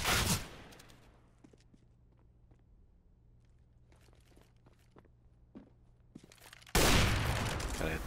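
Gunfire in a first-person shooter video game comes as two loud bursts, one at the start and one near the end, with faint clicks and light footsteps in between.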